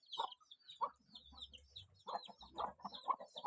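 Hens cluck softly and repeatedly nearby, with faint high chirps of newly hatched chicks scattered throughout and a low rumble in the background, in rural Konkan.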